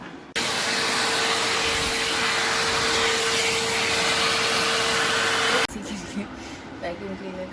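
A household vacuum cleaner running loudly and steadily with a constant whine, then abruptly switching off, leaving quiet room noise with faint talking.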